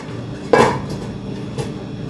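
A metal lid is set onto a cooking pot in a home kitchen, giving a sharp clatter with a short ring, then a second, softer clink about a second later, over a low steady background hum.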